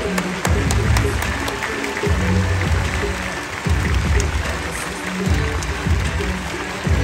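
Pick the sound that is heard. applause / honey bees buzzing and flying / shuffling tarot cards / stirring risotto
applause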